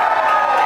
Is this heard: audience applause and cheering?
yes